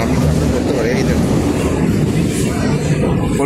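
An air-conditioned suburban local train runs between Sealdah and Krishnanagar, giving a steady loud interior rumble with rolling low-frequency wheel noise that holds throughout; faint voices mix into the background.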